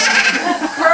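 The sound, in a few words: goats bleating in school play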